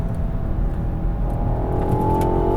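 A BMW Alpina XB7 with its 4.4-liter engine rumbles and builds slightly, a deep steady engine drone heard close and alone for a couple of seconds.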